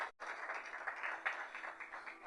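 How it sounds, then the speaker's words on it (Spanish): Faint, steady applause from a church congregation, a soft wash of clapping heard from some distance with no voices over it. "a la palabra de Dios le damos un fuerte aplauso"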